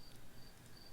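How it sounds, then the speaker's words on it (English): Steady crickets chirp through the whole second, a thin high trill that runs on without a break, faint and somewhat distant, with no voices over it. "Those crickets. Those crickets."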